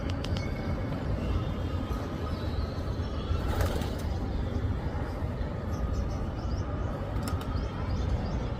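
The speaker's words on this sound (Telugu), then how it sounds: "పావురాలు" Pigeons feed outdoors on scattered pearl millet, with faint cooing and an occasional flutter over a steady background hiss.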